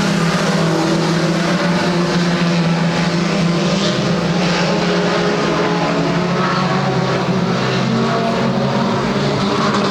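Junior sedan race cars roar around a track, a steady, loud engine drone with overlapping cars passing continuously throughout, no talk.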